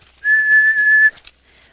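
A single steady, pure whistle from a person, used as a voice cue for a young horse during groundwork, held loud and close for nearly a second, then a quick soft tail-off.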